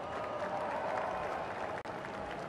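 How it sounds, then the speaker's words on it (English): Audience applause at the Arnold Strongman Classic 2019 in Columbus, Ohio, a steady distant wash of clapping and crowd noise filling the whole stretch. "let's give him a round of applause"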